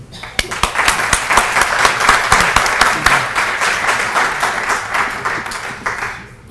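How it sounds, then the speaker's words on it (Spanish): An assembly audience breaks into steady applause, many hands clapping densely for several seconds before gradually thinning out. "Bueno, le debemos un aplauso al doctor León también"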